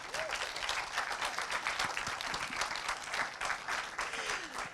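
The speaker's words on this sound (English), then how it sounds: "you're not even going to applaud them?" Steady, fairly quiet applause from a conference audience after a session at an education and training summit, continuous clapping from a moderate-sized room with faint voices underneath.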